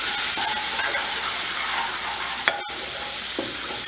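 Deggi chili powder stirred into hot desi ghee for a dal tadka, a bright continuous sizzle close by with occasional spoon scrapes and one sharp knock against the pan.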